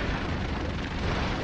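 Explosions from the run-and-gun video game Broforce merge into a dense, continuous blasting rumble, loud and unbroken, with no talking over it.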